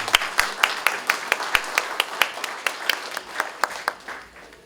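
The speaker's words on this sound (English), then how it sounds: "Let's have a round of applause, please." Guests at a charity ball clap together in a round of applause, with crisp, distinct claps in a fairly steady rhythm at moderate loudness.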